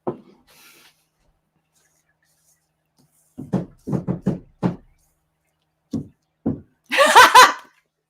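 Knocking on a wood surface comes in short sharp clusters of raps with pauses between, followed by a brief burst of laughter.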